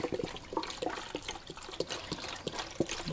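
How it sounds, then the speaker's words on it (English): Broth poured over minced meat in a crock pot, a soft liquid splash and trickle running steadily for about three seconds, close and fairly quiet with no talk. "And then I'm going to add some broth."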